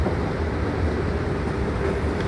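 A Qatar metro train in an underground station gives a loud, steady, broadband rumble and roar that continues without a break. No voices can be heard.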